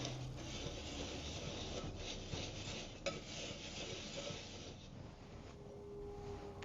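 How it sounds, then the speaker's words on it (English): A pumpkin pie bath salts mixture is stirred in a bowl, a faint continuous gritty scraping and rubbing of coarse salt crystals, close and steady, with one small clink partway through. "we'll go ahead and stir that up"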